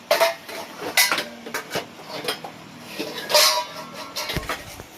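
Steel dishes and utensils clank and clink while being washed at home, a series of sharp close metallic knocks and rattles in an irregular rhythm.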